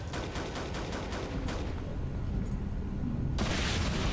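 Rapid bursts of gunfire from Ghost Recon Phantoms crackle in quick succession at the start, followed by a sustained loud blast of shooting near the end, over steady battlefield noise.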